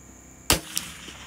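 A single sharp shot from a CZ 457 Varmint rifle at a target range, a short loud crack followed by a fainter echo a quarter second later, then quiet.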